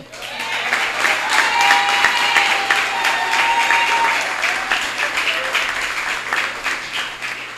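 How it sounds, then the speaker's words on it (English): Loud, sustained applause from an audience at a school graduation ceremony fills the hall, with dense clapping holding steady throughout. "So Mr. J needs a round of applause."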